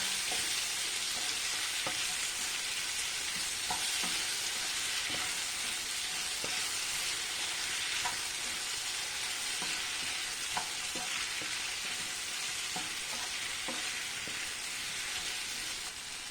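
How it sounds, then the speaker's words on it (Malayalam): Raw mango pieces sauté in coconut oil in a pan, a steady, bright sizzle running throughout, with soft scrapes and clicks of a spoon stirring at irregular intervals. "ഉപ്പുമെല്ലാം പിടിച്ച് മാങ്ങ വെളിച്ചെണ്ണയിൽ നല്ല പോലെ വഴന്ന് വന്നിട്ടുണ്ട്"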